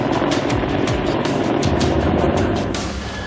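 A Chinook helicopter lands on an Indian Air Force runway at night, its rotors giving a loud, steady, close roar that eases slightly toward the end.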